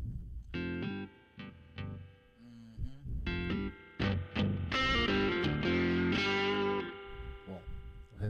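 An electric guitar through a Fractal AX8 processor plays chords and single notes drenched in reverb, the notes ringing and washing into each other at moderate volume.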